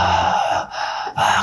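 A man imitates heavy panting, someone crawling exhausted under a scorching sun. Two breathy gasping huffs come close to the microphone with a brief pause between them, and no words.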